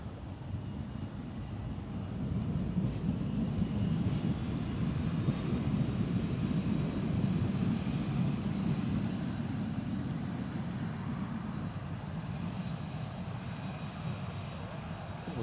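A Saudia Boeing 787-10 Dreamliner rolls out after landing at Newcastle Airport, giving a steady low jet rumble with a rushing roar that holds at an even level from start to finish, with faint voices now and then.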